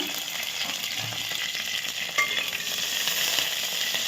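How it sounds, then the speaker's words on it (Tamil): Onion and green chilli fry lightly in a pan for a goat curry, making a soft continuous sizzle with a few stirring clinks, close by and steady, without speech. "அந்த வெங்காயம் பச்சை மிளகா"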